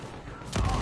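Gunfire in a video game, a burst of rapid shots kicking in sharply partway through and continuing loud to the end, with low rumble beneath.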